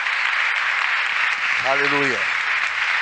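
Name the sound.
congregation applauding in church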